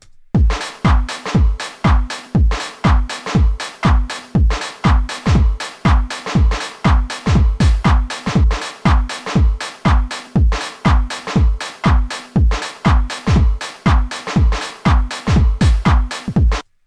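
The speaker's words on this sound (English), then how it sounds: "So now let's hear all the drums together." A punchy electronic drum loop with deep kicks, snappy hits and busy hi-hats repeating in a steady, driving rhythm, loud and close.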